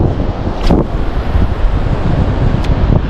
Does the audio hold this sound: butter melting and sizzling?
no